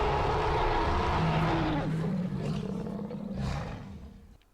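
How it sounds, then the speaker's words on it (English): The Jurassic Park III-style Spinosaurus from the dinosaur game Fallen Ashes lets out a deep, rumbling roar that swells, then trails off in a second, weaker surge before fading to quiet. "classic JP3 Spino roar"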